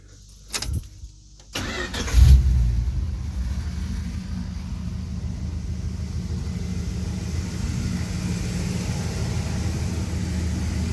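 A 1973 Dodge D100 truck engine cranks briefly, catches with a loud rumbling burst, then settles into a steady, even low idle that continues without a break, close and clear with no talking.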